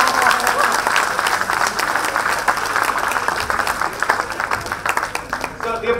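Lecture audience in a hall breaking into sustained applause, dense continuous clapping throughout with some voices mixed in.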